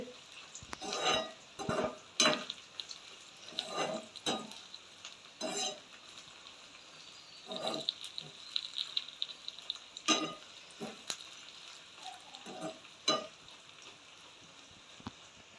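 Egg and vegetable noodles stirred in a hot pan with salt added, giving a steady sizzle of frying broken by repeated scraping and clinking strokes of a utensil against the pan, close by and with no talking.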